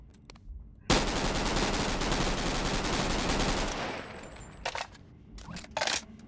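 Rapid automatic rifle fire from an AK-203-like weapon mod in the VR game BONELAB, one sustained loud burst lasting about three seconds followed by several short clicks and clacks of weapon handling.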